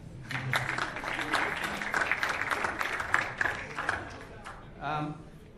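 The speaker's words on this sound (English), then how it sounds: "Applause would be nice." An audience applauds in a burst of overlapping claps, with a voice speaking through and after the clapping.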